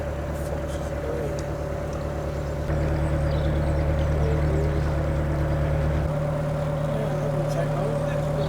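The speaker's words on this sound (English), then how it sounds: "that's a 60 horsepower outboard engine" A passing boat's 60 horsepower outboard engine hums steadily in a low, droning tone, its pitch shifting partway through, with faint background noise and no clear voices.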